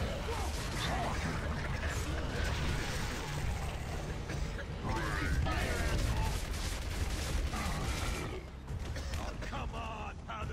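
Retro Lancer gunfire in the video game Gears of War, with dense bursts of rattling shots and mechanical clatter running throughout, layered with other combat noise.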